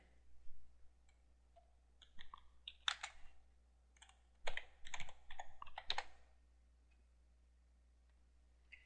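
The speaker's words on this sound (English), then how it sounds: "we need to key this in" Computer keyboard typed in short bursts of clicky keystrokes with pauses between, fairly close and clear against a quiet background, entering details to activate a website hosting account.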